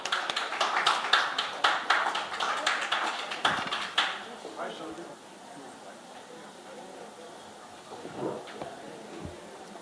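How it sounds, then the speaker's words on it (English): An indoor audience at an expert talk on interior and architectural photography claps in a dense burst of applause that swells, then fades out after a few seconds into quiet room tone with a few stray taps. "Let's welcome him with a big round of applause."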